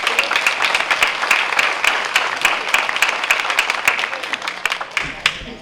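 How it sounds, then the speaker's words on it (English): Warm, dense applause fills a senior center room as an audience claps for its volunteers, loud and sustained for several seconds before tapering off near the end. "Could we have a round of applause for them?"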